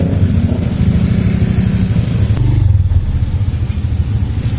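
A motorized becak, a motorcycle rickshaw converted into a camper, runs with a loud, close engine drone. The low rumble holds steady with a slight swell partway through, and no voices are heard.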